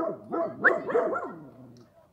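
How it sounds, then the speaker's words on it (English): A dog barks in a quick burst of several close, loud woofs that taper into whimpering yips, with no talk over it. "Come here, crazy dog."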